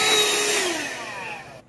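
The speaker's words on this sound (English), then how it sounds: "Vacuum up this nasty mess again." A vacuum cleaner clearing up a drilling mess beside a homemade DWC grow container whines loudly up close, its motor pitch sliding downward as it winds down before cutting off abruptly.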